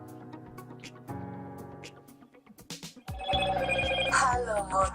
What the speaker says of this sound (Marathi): phone ringtone hello motor